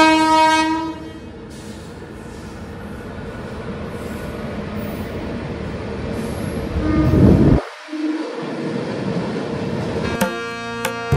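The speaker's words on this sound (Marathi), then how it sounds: "नारळ फोडत आपली ट्रेन रवाना झाली वसई रोड" The Bandra-Madgaon train departs Vasai Road station on its inaugural run, sounding a long horn over a rumbling engine. The rumble swells, briefly drops away, then returns before a second horn blast near the end.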